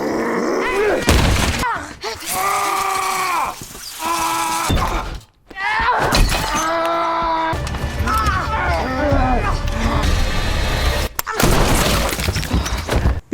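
Film scene of a gunshot and shattering glass at a holiday villa, with bursts of crashing and a loud shot amid tense music and speaking voices, separated by brief silent gaps.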